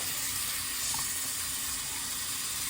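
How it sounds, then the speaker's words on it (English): Tap water running steadily while a wig is rinsed, a soft continuous hiss and splash throughout, fairly faint. "Now we're going to rinse."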